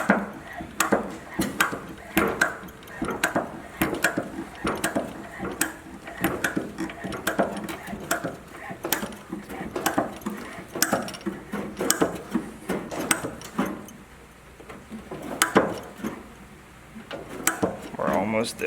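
A hand hose crimping tool squeezes an air conditioning hose fitting for a 1979 Jeep Cherokee Chief, producing close, repeated ratcheting clicks and metallic creaks in an uneven rhythm throughout.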